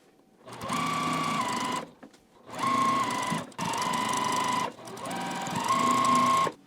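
A sewing machine stitches quilt block pieces in four runs of fast whirring, separated by short pauses, loud and close, with no speech.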